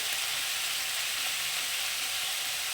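Cauliflower florets fry in oil in a pan, a dense, even sizzle that stays loud and close for a few seconds with no voices.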